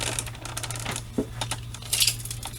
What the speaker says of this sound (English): let me grab my tape measure here